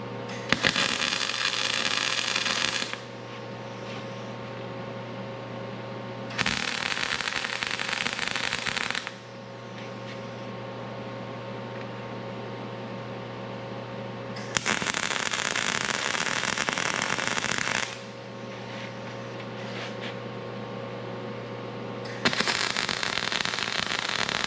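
Tack welds on skid steer door hinges, set twelve inches from the top and bottom: four loud, steady crackling bursts of about two to three seconds each, separated by quieter gaps with a constant background hum.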